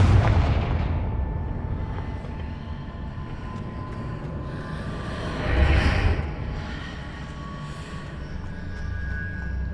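Confringo blasting-spell explosions in the Hogwarts Legacy video game: a steady roar of booming fire and rumble throughout, with a louder burst around the middle, no talking.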